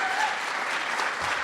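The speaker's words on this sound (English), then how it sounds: "So if we could please give all of our poets a round of applause." Audience applause for the poets at a Poetry Out Loud evening, an even wash of many hands clapping at moderate volume, steady throughout with no voices over it.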